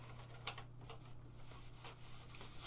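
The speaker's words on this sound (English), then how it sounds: "We'll clean the PlayStation 2." Cloth rubbing over the plastic shell of a PlayStation 2 console being cleaned with rubbing alcohol, a soft, steady scrubbing with brief louder swipes over a low constant hum, close and quiet.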